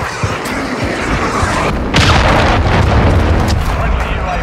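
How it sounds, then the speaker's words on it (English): Cruise missile strike in Call of Duty: Modern Warfare III: a loud, sustained broadband rumble that swells into a heavier boom partway through, with blasts and gunfire-like cracks layered throughout. "Friendly cruise missile deployed."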